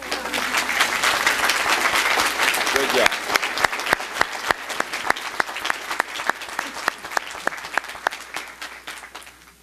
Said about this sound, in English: If you believe it, clap.